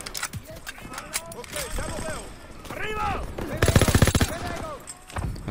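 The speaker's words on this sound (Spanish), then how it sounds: "Tuve que agarrar esta ametralladora." A machine gun fires one rapid, loud burst in a Call of Duty WWII campaign battle, among other gunfire and game noise, with voices talking over much of it.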